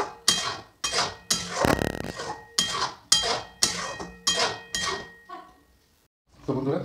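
Payesh, a rice kheer, is stirred in a pot after cardamom seeds go in, giving a run of loud, rhythmic scraping and clinking strokes close by, with brief speech between the strokes.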